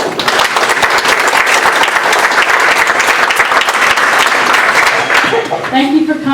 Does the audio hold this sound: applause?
yes